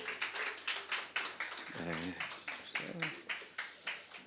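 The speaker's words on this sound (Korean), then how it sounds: "박수로 모시겠습니다" An audience at a church book talk claps to welcome two speakers. Distinct, fairly quiet claps come in a rough rhythm while a voice speaks over them.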